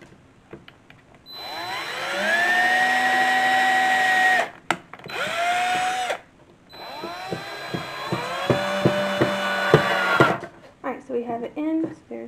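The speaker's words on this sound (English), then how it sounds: "I think I'm going to drill some holes here and here to attach it with these lovely screws" A power drill boring holes into a wooden 1830s-style sewing box, in two sustained bursts of whirring with pitch shifts as the bit bites, followed by short clicks and handling noises.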